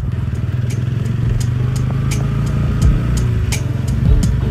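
A TVS Ronin 225 motorcycle rumbles steadily up close as it is eased over to the roadside on a rural North Bengal road, with light clattering over the continuous engine note and no voices.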